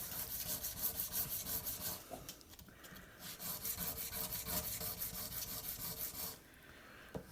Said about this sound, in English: I normally go from 600 to 800 to 1000 steel wool